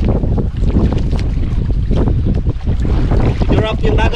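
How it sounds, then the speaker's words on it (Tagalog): Strong wind roars across a fishing boat at sea in the Philippines, with buffeting gusts against the microphone and the rush of waves and the hull running loud and constant throughout. "Grabe yung hangin ngayon, guys."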